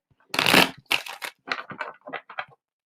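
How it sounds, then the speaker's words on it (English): Playing cards are riffled and shuffled for a tarot-style reading, in one long burst followed by several shorter crisp bursts, close and fairly loud with no talking. "All right, Stacy, I'm going to get a couple more clearing shuffles in and then we'll get started on your reading,"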